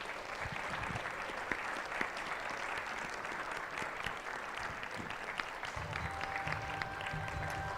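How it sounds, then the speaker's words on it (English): A large audience at an evening youth-forum panel event gives the panelists a sustained round of applause, dense steady clapping throughout with scattered louder claps and a faint background murmur. "Can you all please help me join in a massive round of applause for all our panelists"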